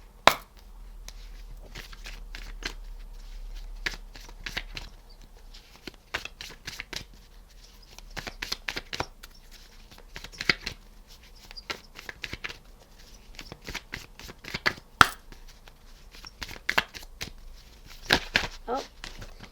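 Tarot cards being shuffled by hand in repeated bursts of crisp riffling and slapping, close and fairly quiet, with short pauses between handfuls and no talking.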